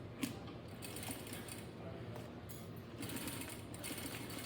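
A sewing machine runs steadily while stitching a seam on a fabric mask, giving a faint, continuous mechanical whir with rapid needle clatter that pauses briefly a couple of times.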